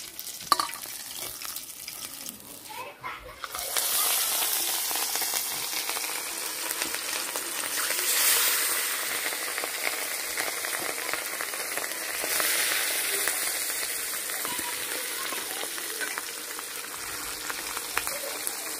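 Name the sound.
katla fish frying in oil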